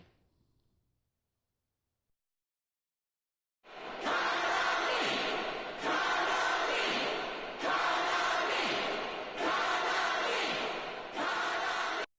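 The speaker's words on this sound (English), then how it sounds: "The crowd's going wild for some reason." After a few seconds of silence, a video game concert crowd in Persona 4 Dancing All Night chants loudly in five rhythmic bursts about two seconds apart.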